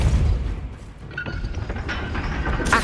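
A Depulso spell blast in the video game Hogwarts Legacy, one loud booming thump that starts the clip and fades out over a steady game background.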